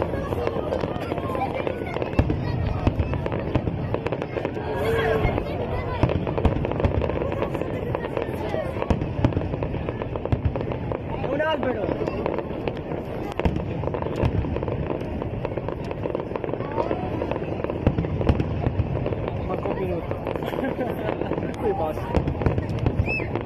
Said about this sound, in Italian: Non ho mai visto fuochi d'artificio in vita mia!